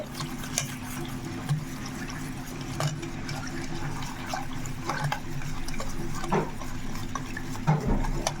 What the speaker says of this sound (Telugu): ఇలా మొత్తంకి మనం కలిపేసుకుందాం. మొత్తం మిక్స్ అయిపోవాలండి.